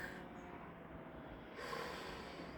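During a gentle morning workout, a faint nasal in-breath starts after a quiet stretch, a soft airy sniff-like rush lasting about a second, close and alone.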